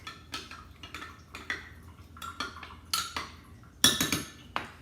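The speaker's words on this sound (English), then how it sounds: "We're going to give this a good mix." Close metal spoon clinking and scraping against a bowl while stir fry sauce is mixed with water for beef and broccoli, in uneven taps and quick rattling strokes.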